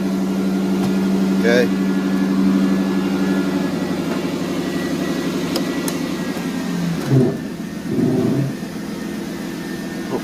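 A car engine idles with a steady low hum and rises in a couple of short revs as the car backs up, close by, with brief speech over it.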